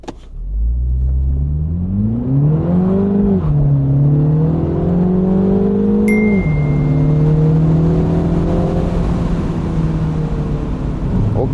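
A Mini Cooper S Cabrio accelerates hard at full throttle toward 100 km/h, its engine note climbing through the gears with a short dip at each shift, loud and continuous from inside the car.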